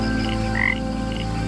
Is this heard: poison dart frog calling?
yes